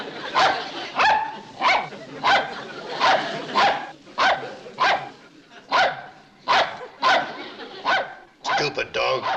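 A dog barks in a long series of loud, evenly spaced woofs close by, with indoor room sound between barks and a rapid flurry at the end.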